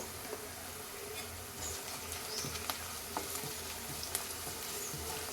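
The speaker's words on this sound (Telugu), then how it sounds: "మనకి అల్లం పచ్చి స్మెల్ పోయే వరకు వేయించుకోవాలి" Ginger garlic paste frying in a pan with a little turmeric, a steady close sizzle with faint scattered pops and stirring clicks, no talking.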